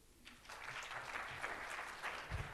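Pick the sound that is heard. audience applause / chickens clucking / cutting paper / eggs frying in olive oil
audience applause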